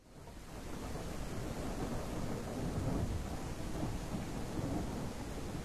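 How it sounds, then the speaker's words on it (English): Thunderstorm weather in the video game The Isle brings a steady, dense wash of heavy rain with low rumbling thunder throughout, with no one speaking. "put it on a thunderstorm if you wanted."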